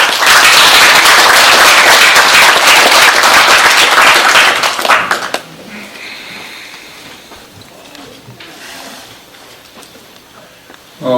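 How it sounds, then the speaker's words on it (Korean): A large audience at a commemorative ceremony greets a speaker with loud, sustained clapping for about five seconds, then the hall falls to a quiet murmur of room noise. "나오실 때 큰 박수로 맞아주시기 바랍니다."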